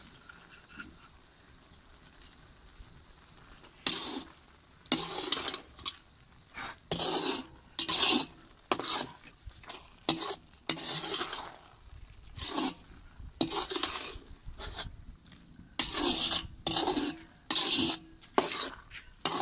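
Almonds being added to carrot halwa and stirred, with a spoon scraping and clinking in a pan in repeated bursts, some soft sizzling underneath, close and fairly quiet.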